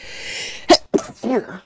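A single sharp sneeze bursts out against a steady hiss, followed by a brief spoken word.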